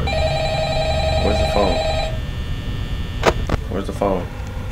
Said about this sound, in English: that phone's ringing